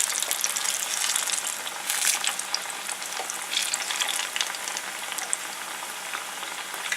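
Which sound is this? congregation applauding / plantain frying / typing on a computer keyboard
plantain frying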